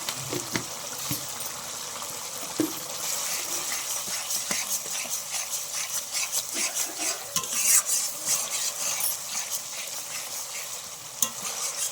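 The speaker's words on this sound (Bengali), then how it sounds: "মিষ্টিটা দিয়ে নাড়াচাড়া দিয়ে একটু জল দিয়ে" Pea dal with green banana is stirred in a pot as a little water is added, with a soft sizzle under repeated scraping and clinking stir strokes throughout.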